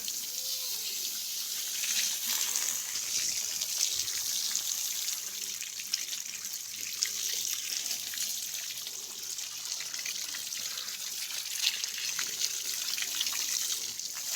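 Water poured for washing feet trickles and splashes continuously, a steady hissing flow with small splatters, close by and without talking.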